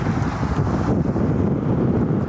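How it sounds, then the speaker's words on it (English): Steady, loud rumbling wind buffeting the microphone while riding a Honda Fury motorcycle on the freeway, a constant low roar with no pauses. "I'm sure you can hear it because I don't have the mic on this camera, it's super windy"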